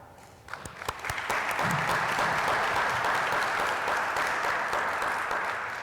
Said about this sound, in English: so please stand up, DoD academic scholars, so we can applaud you